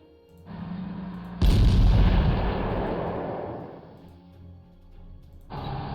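Artillery fire in the wartime strategy game Panzer Corps, set in North Africa: a steady rumble, then one loud, close boom at about 1.5 seconds that rolls off into a long fading tail, with another burst starting near the end.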